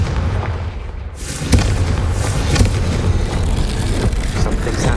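The Confringo blasting spell exploding in Hogwarts Legacy, a sharp boom followed by a dense, sustained rumble and crackle in a dark corridor, loud and close.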